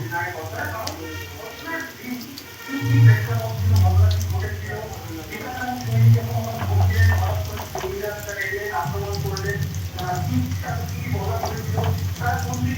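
Okra pieces fry in a pan, giving a steady, close crackling sizzle that runs throughout, while a voice speaks over it at intervals.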